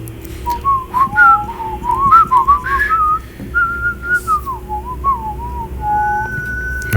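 A person whistles a short tune as part of a challenge, a clear, close melody of wavering, gliding notes that lasts several seconds and ends on a held tone.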